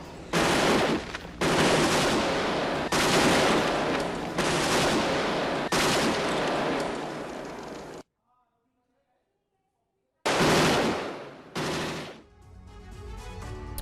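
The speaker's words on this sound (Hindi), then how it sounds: "यूक्रेनी सैनिकों की अंधाधुंध फायरिंग की तस्वीरें भी आपके सामने होंगी।" Indiscriminate automatic gunfire from soldiers in Ukraine war news footage: loud, dense bursts that rattle on for several seconds, break off into a brief silence, then return in shorter volleys.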